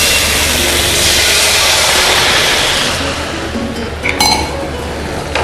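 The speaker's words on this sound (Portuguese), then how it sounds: "deglaça com vinho" Wine is poured into a hot pan coated with tomato residue. A broad, steady sizzle and hiss holds for several seconds, then thins, and a few light metallic clinks of a utensil against the pan follow near the end.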